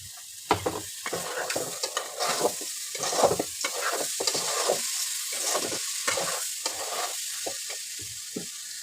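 Raw rice fries in a pan with garlic, cumin and ginger paste, crackling and sizzling loudly as a utensil scrapes and stirs in quick, irregular strokes close by.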